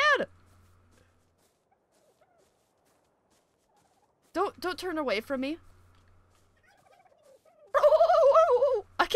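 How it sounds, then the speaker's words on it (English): A super turkey in ARK: Survival Evolved gobbles in three loud, close warbling bursts separated by near silence, with a person speaking briefly between them. "I can't make a turkey noise, but that is awesome!"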